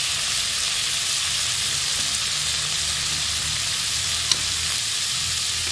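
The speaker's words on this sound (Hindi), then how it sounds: "वेजिटेबल को हम इतना ज़्यादा फ्राई नहीं करेंगे, हल्का सा हमने इसे फ्राई करना है" Vegetables for pasta fry lightly in a pan, giving an even, dense sizzling hiss that holds steady throughout, close up, with one brief tap near the end and no talking.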